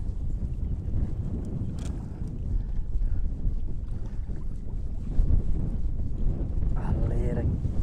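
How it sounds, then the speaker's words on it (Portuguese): Steady, heavy wind buffets the microphone outdoors on open water, a constant low roar with a brief spoken voice near the end. "Galera, que vento, que vento"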